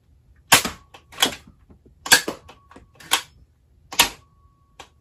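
Shots from a Nerf Minecraft Pillager's Crossbow firing darts: about six sharp, snappy clacks spaced irregularly across a quiet background, each one crisp and close, with small mechanical clicks between them.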